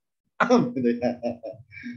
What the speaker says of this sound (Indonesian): saya batuk ini